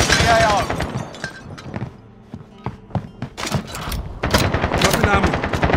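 A video game firefight with sharp bursts of rapid gunshots, some close and some farther off, gathers into a loud volley toward the end, with voices talking before and after.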